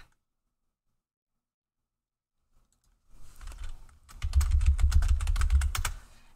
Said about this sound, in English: Yes, that is my keyboard.